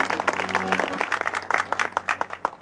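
An audience claps for musicians being introduced on stage during a live show. The applause is dense and close, with a steady patter of many hands and no talking.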